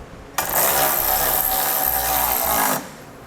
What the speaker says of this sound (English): We'll then use our 13mm socket again, just to snug these down